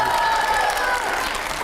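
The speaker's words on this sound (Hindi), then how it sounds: "इसके लिए जोरदार तालियां हो जाए" Audience applause during a televised Hindi interview show, a steady wash of clapping with some crowd noise, loud and sustained throughout.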